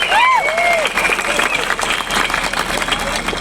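A crowd at a student gathering with a protest committee applauds, a loud, dense, continuous clapping and murmur close by, with a few whistles rising over it early on.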